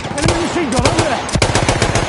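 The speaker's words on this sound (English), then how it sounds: "Enemy machine gun over there!" Enemy machine gun firing in Battlefield 1 multiplayer, a rapid rattling burst of close, loud shots with a voice shouting over the gunfire.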